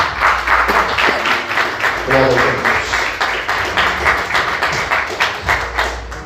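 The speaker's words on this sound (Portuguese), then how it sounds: "Aplauda Jesus, bem forte." A church congregation claps loudly and steadily in rhythmic bursts, with a voice calling out briefly over the applause.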